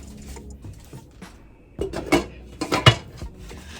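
A pot full of water handled onto a kitchen stove during Easter dinner prep: a few loud, close metallic clanks and knocks in quick succession after a quieter stretch of faint kitchen rattling.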